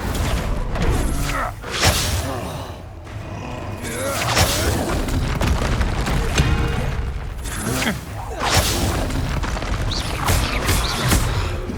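Incendio and Confringo spell blasts in the video game Hogwarts Legacy, bursts of booming impacts and whooshes mixed with crashing thuds across a busy duel, with spoken incantations and other voices over the effects.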